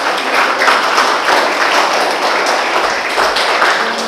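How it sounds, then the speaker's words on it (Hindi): A school auditorium audience of students gives a burst of loud applause, dense overlapping clapping that rises in waves and carries steadily throughout. "एक बार जोरदार ताली आप अपने लिए दोबारा बजाइए एक बार"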